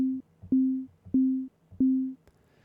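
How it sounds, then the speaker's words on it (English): Caustic 3 FMSynth patch with an envelope decaying to zero, giving four evenly spaced percussive tones, each a sharp attack on the same low pitch followed by a quick fade, close and clean. "if we had set up our envelope to decay down to 0 to get kind of a percussive sound"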